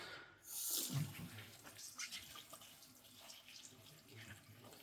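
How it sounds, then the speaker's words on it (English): Cold tap water runs into a sink while a messy fountain pen is rinsed, the flow starting in a sudden splashy gush and continuing with uneven spatters, close and moderately loud, no talk. "I've got some running water"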